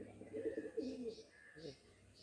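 Close, quiet cooing from a Madras high-flying pigeon, a longer warbling coo followed by a shorter one, with faint background murmur and a few soft higher tones.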